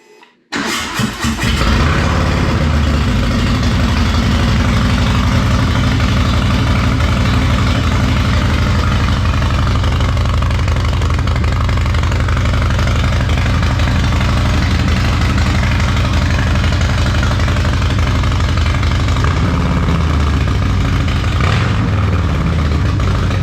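A Harley 131ci fitted with a Two Brothers Racing Shorty Turnout exhaust cranks over and settles into a loud, deep, steady idle up close, rumbling on without interruption and with no talking.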